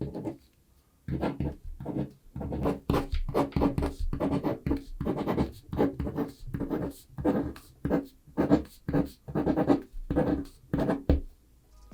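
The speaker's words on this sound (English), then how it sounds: "How about we just do 10 seconds of pen and paper writing ASMR?" Steady magnetic pen scratching across printer paper in quick, rhythmic strokes, close and fairly loud, continuing without pause for about ten seconds with no talking.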